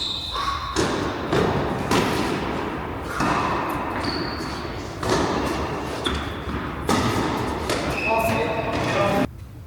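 Tennis ball struck in a deep volley during a doubles match, sharp thuds and pops of racket hits amid court noise, with a voice talking over the rallies.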